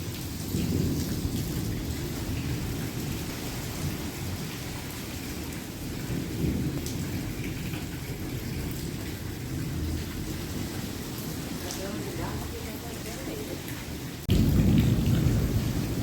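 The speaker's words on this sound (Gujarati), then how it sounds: "ભયંકર છે વીજ મુસળધાર બારિશ" Heavy rain pours steadily in a thunderstorm with lightning and strong wind, with a low rumble of thunder rolling underneath and a louder surge of downpour near the end.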